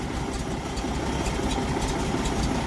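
Studebaker US6 military truck engine idling at close range, freshly fixed after a clogged carburetor, a steady even rumble alone with no talk.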